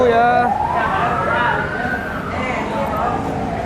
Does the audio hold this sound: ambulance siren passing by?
yes